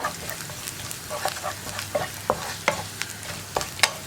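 Chili powder and drumstick leaves frying in a pan for a stir-fry with cut beans, with a low steady sizzle broken by scattered clicks and taps of a spoon stirring close by.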